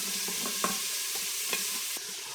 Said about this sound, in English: now that our bacon has started to slightly brown